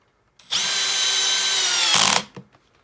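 Makita XPH07 brushless hammer drill driving a screw into wood: a loud, steady high-pitched motor whine for about a second and a half, a brief rise as the clutch engages, then a quick stop with small clicks.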